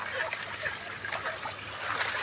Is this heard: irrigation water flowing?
yes